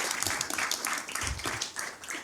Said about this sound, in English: can we get a round of applause for what you are doing, please?